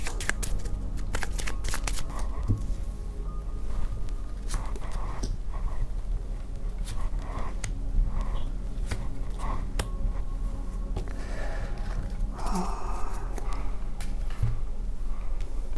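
Tarot oracle cards are shuffled and drawn in continuous close, crisp riffling and flapping, with a few sharper snaps of cards being pulled from the deck.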